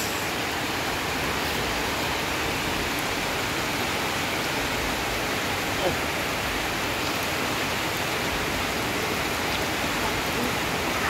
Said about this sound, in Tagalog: Hindi naman masyado malakas tong ulan, kaya lang dire-diretso.